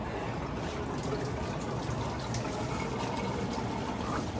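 Coolant drains out of a Honda Civic's K24 engine block, a steady, dense liquid splatter that runs continuously at even loudness from start to finish.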